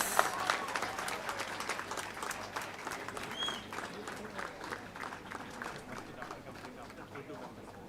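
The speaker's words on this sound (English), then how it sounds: "A big round of applause." Graduation-day crowd clapping for a newly honored doctoral student, a moderate, fairly distant round of applause that starts strongest and slowly tapers, with no speech over it.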